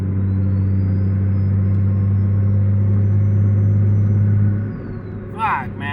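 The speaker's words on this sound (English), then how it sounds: "Big turbo coming through, big turbo, watch yourselves." A car fitted with a T51R turbo pulls hard, its engine a loud, steady low drone that drops away near the end and gives way to a brief high chirp.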